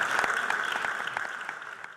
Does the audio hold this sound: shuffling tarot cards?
no